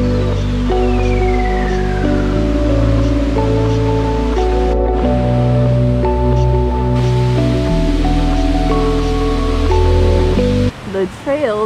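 Steady rushing water from a waterfall in Kanchanaburi, Thailand fills the whole stretch, with music playing over it and a brief burst of talk near the end.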